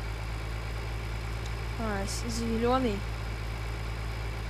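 A tractor engine idles in Farming Simulator 2013 as a steady low rumble with a constant hum, while someone speaks briefly over it midway.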